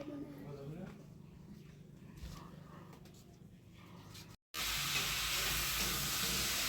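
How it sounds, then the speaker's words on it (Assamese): Pork and capsicum fry in a pan at a home kitchen during Rongali Bihu cooking, giving a loud, steady broadband sizzle after a brief gap, with background voices and stirring earlier in the clip. "ভাজি বনাই আছে, গাহৰি।"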